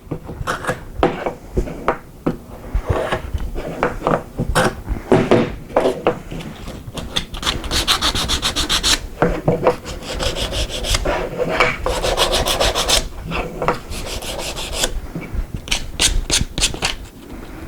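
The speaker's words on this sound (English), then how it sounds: "or we can do that with one pass with a plane" Hand plane shaving a wooden smartphone mount during a DIY woodworking build, giving repeated rasping strokes that come close and loud in steady bursts, with no talking.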